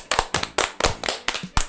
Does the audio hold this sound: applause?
yes